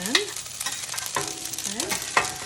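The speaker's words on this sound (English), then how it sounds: "We're going to add our roasted broccoli in." Roasted broccoli stirred into a hot frying pan, a soft sizzle under repeated scraping strokes of a utensil against the pan, heard close up in a home kitchen.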